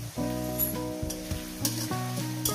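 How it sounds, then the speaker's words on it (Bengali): Sliced onions frying in a pan for a radish and chicken curry, a close, steady sizzle with occasional stirring scrapes, and a low humming tone underneath. "পেঁয়াজটাকে আমি সুন্দর করে ভেজে নিয়েছি"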